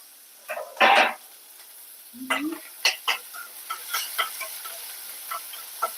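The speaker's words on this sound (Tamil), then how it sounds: "எண்ணெயில போட்டு வணக்கிக்கலாம் கொஞ்சம் சிம்மில் வச்சிருவோம்" Pirandai (adamant creeper) sautéing in oil in a pan, with brief sizzles and a series of scraping stirs at an uneven pace, close and fairly quiet, with no talking.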